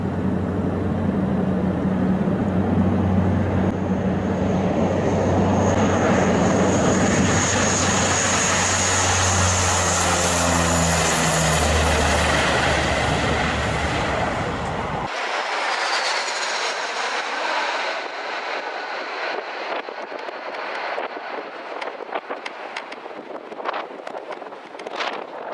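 Piston engines of a C-47 at Bodaibo Airport drone loudly and continuously for about fifteen seconds with strong low harmonics and wind buffeting, then drop abruptly to a thinner, gusty roar with crackling wind noise.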